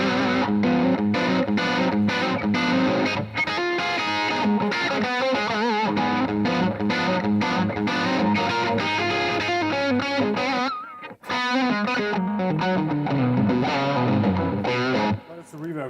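An electric guitar played through the second channel of a Bogner boutique amp, driven and distorted with chorus-like shimmer, chords and riffs ringing loud and continuous for about sixteen seconds with a brief pause near the end.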